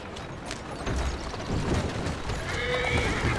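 A horse whinnies and snorts over steady hoofbeats in Assassin's Creed Syndicate, with continuous background ambience and a high tonal layer near the end.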